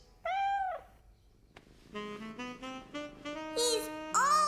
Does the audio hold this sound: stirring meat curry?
no